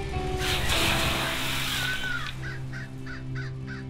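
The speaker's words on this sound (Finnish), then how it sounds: "Lintu!" A crow caws in the Hello Neighbor video game, with several short harsh calls repeating near the end over a steady bed of game ambience and low hum.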